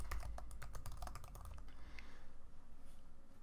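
Fast typing on a computer keyboard while entering text in Adobe Illustrator CC 2020: a quick burst of clicky keystrokes, then a few softer scattered taps, close and clear with no talking.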